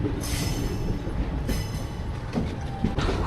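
An Indian Railways train heading toward Chennai from the Palakkad Junction area rolls along with a dense, continuous rumble and wheel noise, loud and close, with no one speaking.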